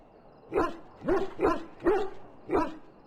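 A dog in the video game Dragon Age gives five short, evenly spaced whimpering barks, close and fairly loud, over a quiet background.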